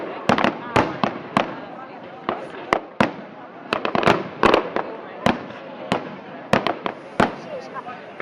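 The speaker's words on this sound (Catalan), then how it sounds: "estan cremant el castell i demanen ajuda amb els petards" Rapid, irregular bangs of a fireworks castle and firecrackers exploding close by at the Patum festival, sharp cracks in clusters with brief gaps and voices underneath.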